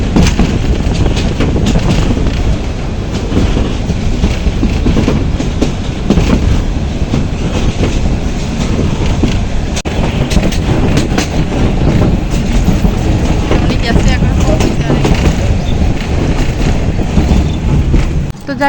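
Continuous loud rumble and rattle of a train running over tracks, heard from inside with steady rhythmic clatter throughout.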